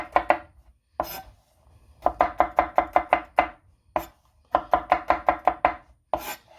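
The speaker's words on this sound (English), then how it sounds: "we're just going to kind of just chop this up for right now" Ingredients for Neapolitan pizza chopped on a board with a knife, close and loud, in quick rhythmic bursts of five to seven strokes separated by short pauses, with no talk.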